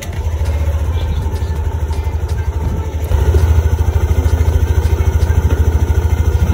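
A Yamaha NMAX scooter engine runs steadily with a rhythmic putter, revving slightly louder partway through and then holding at a fast idle.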